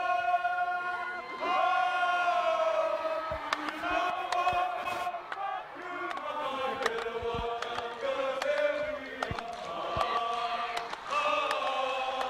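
A crowd cheers and whoops at a trophy presentation after the SAS Senior A Grand Final as a song begins, with sustained loud voices and shouts layered over music.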